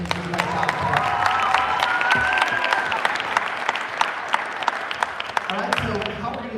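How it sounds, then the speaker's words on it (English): Audience applause fills a cheerleading competition venue, steady dense clapping with some crowd noise and cheering throughout, while a voice talks over it. "let's give them both a round of applause for bringing this out."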